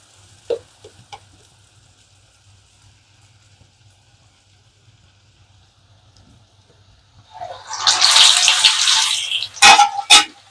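Vada batter for dahi vada hits hot oil with a sudden loud sizzling burst after several seconds of near silence, a few faint clicks early on, followed by sharp spattering crackles.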